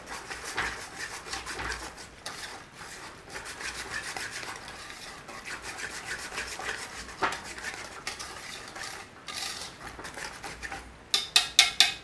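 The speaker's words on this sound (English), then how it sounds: "I'm going in there with our evaporated milk. Nice little stir through." A spoon scrapes and rubs through tikka masala sauce with evaporated milk in a pot, in a steady close stirring rhythm that ends with a few sharper clinks.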